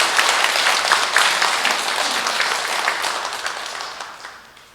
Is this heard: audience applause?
yes